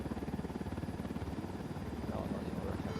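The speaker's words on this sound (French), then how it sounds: "Il y a un hélicoptère." Helicopter in the video game Ghost Recon Wildlands, a steady pulsing rotor thrum with engine rumble throughout, moderately loud and continuous with no pauses.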